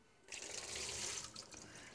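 Rinse water rushes out of soaked fresh blueberries in a strainer over a sink, starting abruptly as a steady hissing pour that holds, then eases slightly, close by and without talk.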